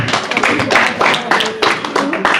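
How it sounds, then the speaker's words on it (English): Audience applause at a youth retreat, a lively burst of many hands clapping close and loud, with brief voices mixed in. "Round of applause for them."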